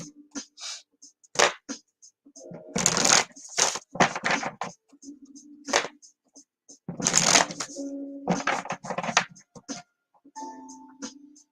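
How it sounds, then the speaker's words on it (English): Playing cards riffled and shuffled in several quick bursts, close by, with people talking in between, during a psychic reading. "She says shuffle them good."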